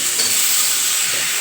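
Hot pan of soybean curry hisses sharply as water is poured in, a loud, close steam burst that holds steady through the brief moment without talking.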